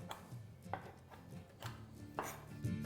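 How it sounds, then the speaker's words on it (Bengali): Almonds being chopped with a knife on a board: a series of distinct, close, fairly crisp chops at an uneven pace, with no talking. "আমি এখানে কয়েকটা কাঠবাদামও কেটে নিচ্ছি।"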